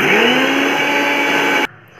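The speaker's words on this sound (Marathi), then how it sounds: "त्याला पुन्हा मिक्सरला बारीक फिरवून घ्यायचं।" Close and loud, a mixer grinder spins a pani puri masala paste with added water, running steadily before switching off abruptly, leaving a brief quiet tail.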